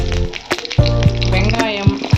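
Cumin seeds and curry leaves frying in castor oil, a steady close sizzle with several sharp crackles and pops, and a low hum running underneath throughout.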